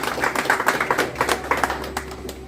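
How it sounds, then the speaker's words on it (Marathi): An audience at a public lecture claps in scattered, uneven bursts of distinct hand smacks, moderately close, with the claps thinning out toward the end. "सगळ्यांनी जोरदार टाळ्या वाजवा"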